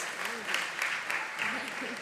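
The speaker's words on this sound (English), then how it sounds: "Can we give him a resounding round of applause?" A school audience applauds at an inter-school event, dense clapping with rhythmic surges, fairly loud and close, with voices audible beneath the clapping.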